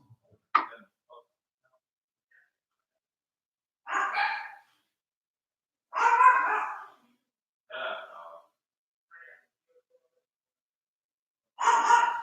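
A dog indoors gives a handful of separate barks spaced a second or two apart, fairly faint, with silence between them.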